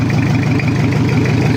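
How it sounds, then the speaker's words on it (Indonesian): A Toyota Kijang diesel engine idles cold just after a full rebuild, a loud, steady, close low rumble with an even rhythmic knock and no revving. "Suara masih menyesuaikan karena mesin belum panas lur."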